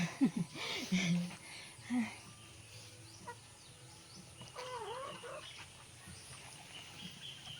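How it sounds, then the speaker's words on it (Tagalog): Several chickens cluck and squawk near the start, with a rooster-like call, then fainter background clucking while people talk quietly. "Ang daming manok guys."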